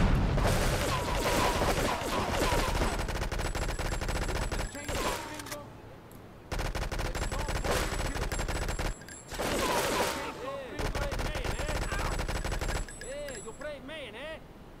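Gunfire in Grand Theft Auto III comes in loud rapid-fire bursts separated by brief lulls, with someone talking over parts of it.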